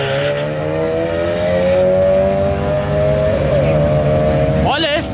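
A Chevrolet Celta and a Volkswagen Saveiro Turbo run a drag race, their engines roaring loud and sustained with rising revs and a sharp shift near the end, while a commentator talks over the noise.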